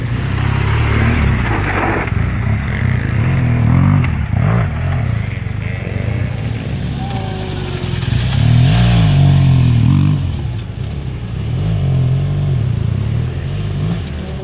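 A BMW GS motorcycle on an offroad training course climbs a ledge with a short burst of throttle, its engine revving loudly and close over a low rumble, with clattering from the rough ground.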